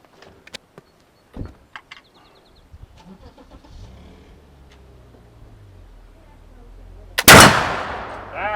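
A black powder musket fires once with a sudden, loud, close blast followed by a long rumbling decay, after several seconds of quiet outdoor clicks and handling noises.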